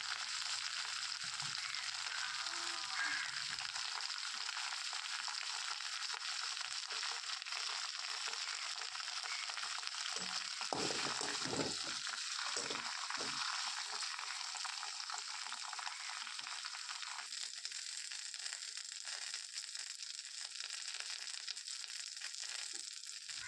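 Thuthuvalai leaves sautéing in oil in a kadai, a soft, steady hiss of frying throughout with a few brief stirring scrapes partway through, fairly quiet and without talking.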